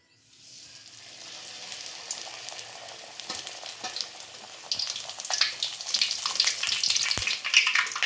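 Puri frying in hot oil, with a steady bubbling sizzle that swells louder over several seconds, crackling densely as the dough puffs, with occasional soft knocks of a utensil; close, no talk.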